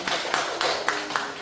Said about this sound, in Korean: 수고하신 주원이랑 우리 하나님한테 박수 한번 보낼까요